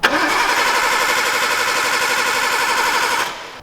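A Nissan Skyline R32 with a new turbo cranks over continuously for about three seconds, a loud, even, rapid starter whir that does not catch, then cuts off.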